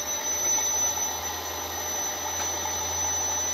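An elevator motor driven by a frequency inverter runs steadily in a loud, constant hum with a high whine on top, unchanging for the whole stretch.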